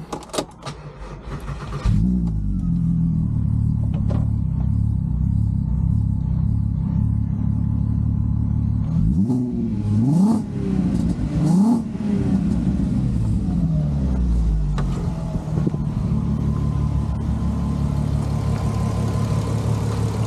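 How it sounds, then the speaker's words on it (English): A turbocharged VR6 in an MK5 Golf R32 cranks and catches, then settles into a loud, close idle broken by several sharp revving blips that rise and fall before easing back to a steady burble. "let me let's just jump in and we'll start it up"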